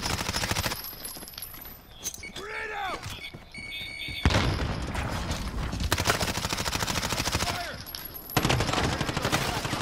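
Gunfire in the video game Warzone: rapid bursts and fusillades crack loud and close, with short pauses between volleys, while players talk over the shooting.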